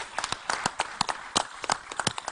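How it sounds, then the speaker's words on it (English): An audience at an annual members' meeting claps for a couple of seconds, a scattered, uneven patter of individual hand claps heard fairly close, with no talking over it. "We should clap a little bit."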